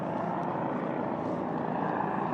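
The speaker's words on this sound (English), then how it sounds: "Here comes the Coast Guard helicopter." A Coast Guard helicopter drones overhead with a steady, broad rumble that holds at a constant level throughout, without any voices.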